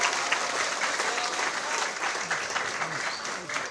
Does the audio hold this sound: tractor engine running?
no